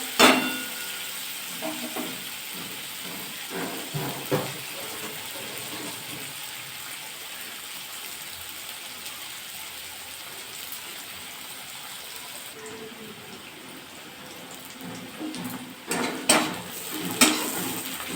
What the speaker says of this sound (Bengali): পেঁয়াজ ভাজা হয়ে গেছে রসুন দিলাম